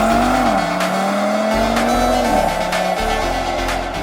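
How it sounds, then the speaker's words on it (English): An Audi RS3 hot hatchback's five-cylinder engine revs hard and close, its tone climbing and dropping in steady pulls over a continuous loud roar, with no talking. "enjoy all that 5-cylinder sound and all the things that the RS3 can do for you"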